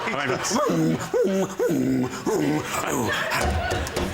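A voice imitates a heavy dog snuffling with a run of close, loud, grunting snorts in quick succession, then trails off into breathy noise.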